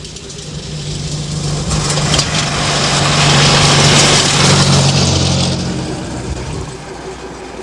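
A 1938 Skoda car with a completely rebuilt engine runs at a steady low rumble close by. It swells louder toward the middle and then eases back.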